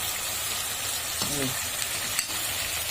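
Chopped onions frying in a hot pan for beef shawarma give a steady, close sizzling hiss, with a brief stir or scrape near the middle and no talking.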